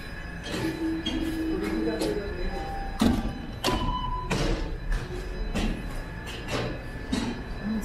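A Toronto Line 1 subway train passes through a station in the evening, with rolling wheel rumble, rhythmic thumps over rail joints and a faint squeal, close and moderately loud under a voice.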